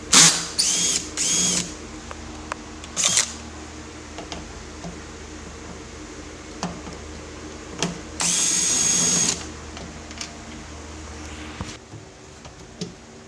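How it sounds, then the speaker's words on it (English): A power driver with a T30 Torx bit backs out the door lock screws on a GM truck such as a Chevrolet Tahoe or Silverado, several short whirring bursts with a longer run near the middle, close and loud amid light clicks. "Now you use the T30 bit, take these guys out."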